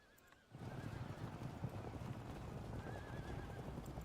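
Horses in the medieval battle game Field of Glory II: Medieval gallop with a dense, continuous rumble of hooves while a whinny rises clearly above it, loud and sustained after a brief quieter start.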